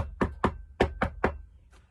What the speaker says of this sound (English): the knocking continued, like impatient knocking on a metal door